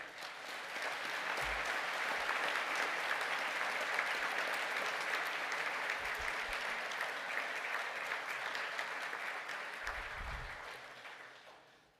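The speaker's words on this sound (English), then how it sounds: "please stand for a round of applause" Sustained audience applause at a graduation ceremony for science honours graduates, a dense, steady clapping from a large crowd lasting throughout and fading slightly at the end, with a few low thumps.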